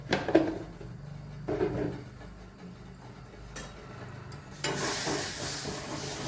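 Spice powders of turmeric and coriander sizzle in a pan for a spicy Kadala curry, with soft frying hiss, intermittent stirring scrapes and clatters, and a louder surge of sizzling near the end.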